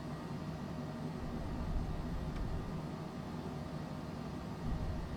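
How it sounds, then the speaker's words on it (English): Aircraft auxiliary power unit running in a Cessna Citation Longitude in Microsoft Flight Simulator, a steady broadband roar and hum with no pauses and no talk. "APU is running."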